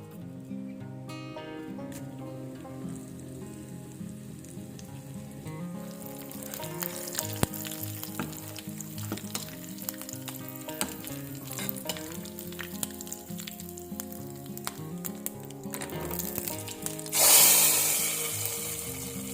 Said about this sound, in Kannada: ಇದು ಚೆನ್ನಾಗಿ ಕುದ್ದ ನಂತರ ಇದಕ್ಕೊಂದು ಒಳ್ಳೆ ಒಗ್ಗರಣೆ ಹಾಕಿದ್ರೆ ಹೆಸರು ಕಾಳು ಪಲ್ಯ ರೆಡಿ ಆಯಿತು